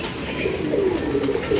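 A pigeon coos softly and nearby, a low, rolling murmur that swells and repeats over a faint background hum.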